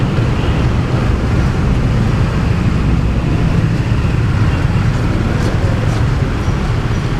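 Road traffic in a jam, a constant low rumble of engines and passing vehicles, loud and close, with faint higher whines and hisses drifting over the steady drone.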